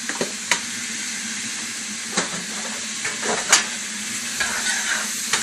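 A spoon scrapes and clinks as steamed carrots and mixed vegetables are stirred together in a pot for chicken and dumplings. Faint steam and simmering hiss underneath carry the sporadic scrapes.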